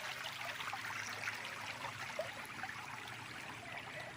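Creek water flows steadily at a stream crossing on a farm lot in Pagsanjan, Laguna, giving a continuous, even wash and trickle that stays fairly faint throughout with no talk.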